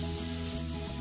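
Mutton frying in a pan after its water has cooked off, a steady, close, continuous sizzle with a low stove hum and no talking.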